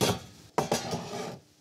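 A metal frying pan is picked up and set down with a few close clanks and scraping knocks, with a rough rubbing noise between them.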